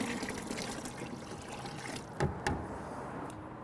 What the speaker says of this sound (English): you can add up to a gallon of water without adding any more salt